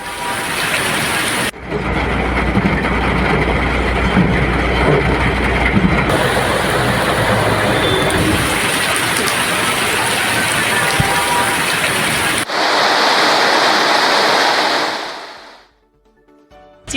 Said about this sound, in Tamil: ரொம்ப மாசத்துக்கு அப்புறம் இப்பதான் மழை பெய்யுது